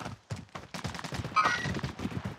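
Rapid machine gun fire in Call of Duty: Warzone, a steady stream of fairly close shots in quick rhythm, with a brief metallic ring partway through.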